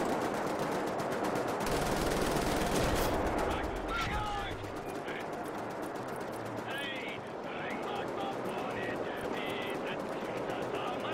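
Rapid machine gun fire and bursts of gunfire in the first-person shooter Wolfenstein: The New Order, loud and dense, with game effects and a voice talking over the shooting.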